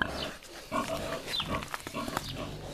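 A pregnant sow close to her third farrowing grunts repeatedly at close range, with snorts and short rough oinks in an uneven rhythm and faint voices in the background.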